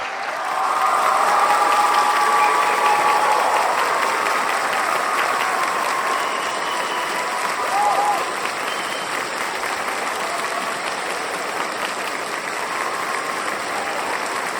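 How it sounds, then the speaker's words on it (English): Sustained audience applause for a speaker at an evening lecture event, a steady, full wash of clapping from a large crowd that continues evenly for about fifteen seconds with a few voices underneath. "A round of applause for Graham Hancock, please."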